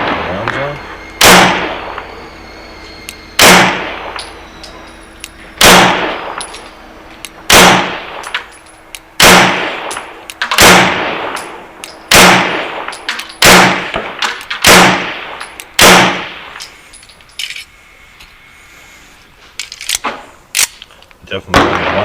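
A 1911 pistol firing Hush ammunition at a range: about a dozen sharp, loud shots spaced a second or two apart, with a few quieter pops and clatter between them.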